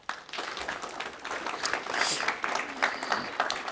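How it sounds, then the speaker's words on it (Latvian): Audience applause after a talk, a dense steady patter of many hands clapping that swells slightly and holds for several seconds, with no voice over it. "Paldies! Aplausi!"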